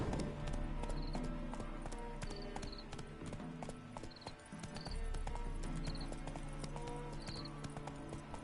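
Horse hooves clip-clopping in The Witcher 3 video game come as a steady, rhythmic trot, close and continuous, layered over game ambience and music.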